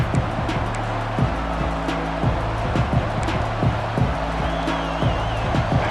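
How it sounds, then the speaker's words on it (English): A simulated stadium crowd roars in EA Sports College Football 26, a dense, constant wash of noise with faint tonal game audio underneath and no talk. "This crowd ready to make its presence known."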